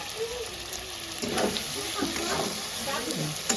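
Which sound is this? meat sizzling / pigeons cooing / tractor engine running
meat sizzling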